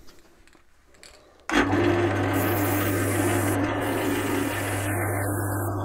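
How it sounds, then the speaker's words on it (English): A wood lathe switches on abruptly and then runs with a steady hum and whir while lacquer is applied, accompanied by a faint spray-like hiss. "I'll do this with the lathe running because it just seems to give a more even coating"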